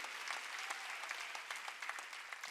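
A church congregation at a Korean Wednesday worship service claps hands together in steady, dense applause, a continuous wash of many palms with no voices standing out.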